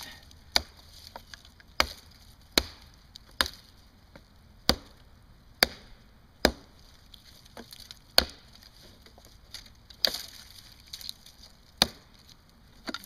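Wood is chopped outdoors with sharp, evenly spaced strikes, about a dozen crisp impacts arriving roughly every second with brief splintery tails and near-silence in between.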